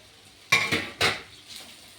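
Pasta mixed with fried egg in a pan, giving a few sharp metallic scrapes and clinks of a utensil against the pan, close, with a faint sizzle underneath.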